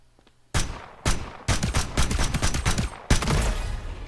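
Secondary weapon fired with the left trigger in the shooter game FragPunk, a series of four or five loud, punchy bursts with short gaps, some shots running together into rapid fire.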